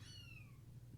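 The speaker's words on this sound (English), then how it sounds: "you might hear the kitten meowing in the background" A kitten meows once in the background, a faint, short, falling cry over a low steady hum.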